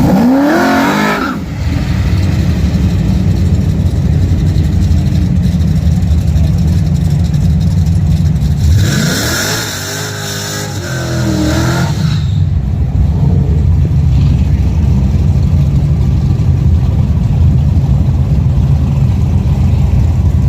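A 1969 Camaro and a 1969 Charger idle and rumble loudly at a drag strip, the engines holding a heavy low drone, with one surge of revving near the middle before settling back.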